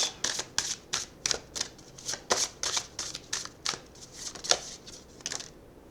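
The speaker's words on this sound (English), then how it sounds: "Let's pull a Mudra card." A deck of Mudra oracle cards being shuffled by hand before drawing, a quick run of crisp riffling bursts in a steady rhythm, close and clear, with no talking.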